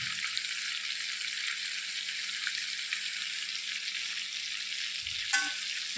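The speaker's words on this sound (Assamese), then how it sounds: "এতিয়া মই এইখিনি ভালদৰে লৰাই দিছোঁ" A mixed vegetable and paneer curry sizzles steadily in a pan, a soft, even frying hiss heard close with no voices, ending in one brief scrape of a spoon.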